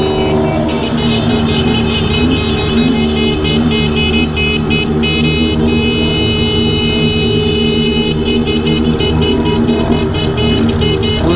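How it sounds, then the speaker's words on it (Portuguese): Several motorcycle horns honk continuously together over loud engine noise, a sustained chorus of blaring tones from motorcycles close by, during a horn-honking tribute ride through Poços de Caldas. "Buzinaço aí pro irmão Rafael, que faleceu aí, foi assassinado trabalhando"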